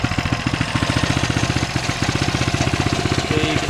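A Coleman mini bike's small engine runs steadily and close by, with a fast, even chugging beat and no talking.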